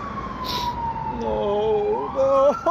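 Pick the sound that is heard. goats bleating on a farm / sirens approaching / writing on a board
sirens approaching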